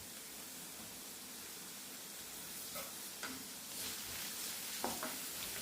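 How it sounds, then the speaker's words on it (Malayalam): Two small onions with a pinch of salt sautéing in a pan, a quiet steady hiss of frying with a few soft stirring scrapes near the end. "അപ്പോൾ ഞാൻ ചെറിയ സവാള 2 എടുത്തിട്ടുണ്ട്. അതൊന്ന് വഴറ്റി വെക്കാം"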